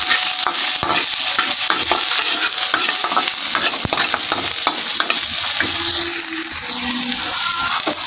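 Chili and onion sautéing in a pan make a loud, continuous close sizzle, with a steady run of stirring scrapes and clacks over it and no talking.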